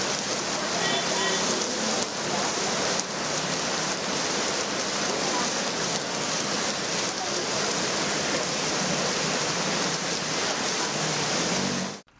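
Heavy rain pours steadily onto roads in Tamil Nadu, a dense, loud, even hiss that holds unbroken for the whole stretch before cutting off abruptly at the end.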